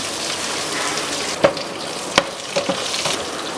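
Spices for a dal tempering crackle and sizzle steadily in hot oil with green chilies, with a few sharp pops and clinks of a utensil against the pan.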